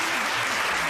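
Dense audience applause at a Bhojpuri film awards show, a steady, full burst of clapping from a large crowd, close and loud, lasting under a second.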